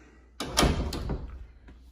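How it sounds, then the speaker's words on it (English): A sliding door running on ball bearings in a modular home is pushed open with a sudden thunk and a short rolling rumble, close and fairly loud, then fades out. "This door's operated on a ball bearing."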